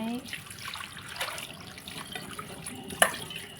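Kaffir limes being washed under running tap water at a sink, a soft steady trickle and splash with a sharp clink near the end.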